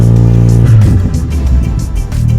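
An Audi A4 B9 with a TVS Engineering Stage 2+ TCU holds its engine at the launch control limit near 3750 RPM, a loud close droning rev that dips and wavers into a rough burbling hold.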